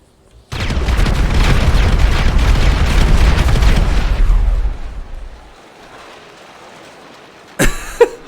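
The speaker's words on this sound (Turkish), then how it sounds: "Patladı orada patladı." A sudden loud explosion in GTA 5 erupts into a long roaring rumble that slowly fades, followed by quiet and a couple of sharp bangs near the end.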